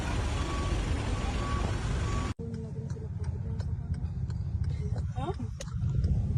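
Heavy road traffic with trucks in a jam near Katmon, a loud engine rumble and hiss that cuts out abruptly, then resumes over quieter idling with faint ticks and a brief beep.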